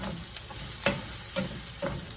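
Onions frying in a skillet with pan drippings from meat, a steady low sizzle broken by a few sharp stirring scrapes at a slow, even pace, close by and with no voices.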